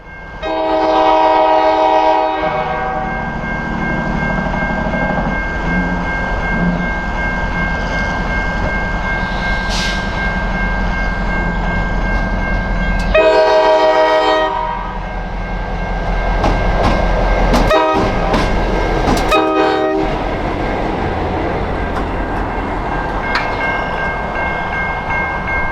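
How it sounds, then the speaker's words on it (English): A Norfolk Southern local freight train passes close by near Wayne Yard on the Michigan Line, sounding long loud horn blasts twice over a continuous rumble and rolling wheel noise. "we catch NS Local B17 heading back to Wayne Yard"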